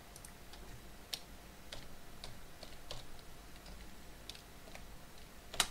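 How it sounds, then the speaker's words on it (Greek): Computer keyboard typing heard faintly up close, scattered light clicks in an uneven rhythm with a slightly sharper keystroke near the end, no one speaking. "πληκτρολογούμε K-Lite"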